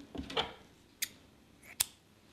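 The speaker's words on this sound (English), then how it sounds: "Now we can cut the yarn" Scissors cut crochet yarn while working an amigurumi dragon, giving a soft opening rustle followed by two sharp, crisp snips close by.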